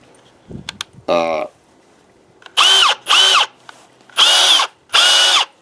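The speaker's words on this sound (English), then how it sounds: "this drill actually turns faster than the DeWalt does by 300 RPMs" Cordless power drill used for trimming a horse's hoof, revving in four short high-pitched whirring bursts with pauses between, close and loud, after a brief initial spin and some handling knocks.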